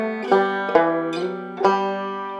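Banjo playing a melodic-style passage from the tune Lazy John, a few cleanly plucked, ringing notes in an unhurried rising line, close and clear with no voices.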